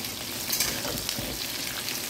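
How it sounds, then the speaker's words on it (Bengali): Medium potatoes cut into chunks frying in a pan for a simple chicken curry, a soft, even crackling sizzle heard close but at modest volume. "এটাকে একটু ভেজে নেবো"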